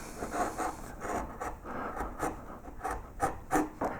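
Chisel struck with a mallet while carving cross-grain lines into a wooden child's bedroom sign, giving a series of soft, close taps and rasping cuts at an irregular pace.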